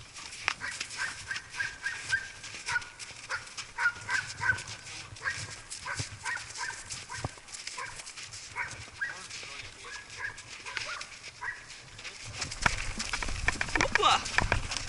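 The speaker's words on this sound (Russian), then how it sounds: "Тупые собаки за нами несутся." Dogs bark repeatedly as they chase people riding through open fields, the barking mixed with wind, ride noise and people talking over it.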